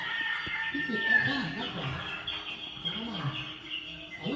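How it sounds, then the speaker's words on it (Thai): A chicken clucks in rhythmic bursts inside a tourist cave shrine, its calls partly under someone talking nearby. "มีเสียงไก่ด้วยนะครับ"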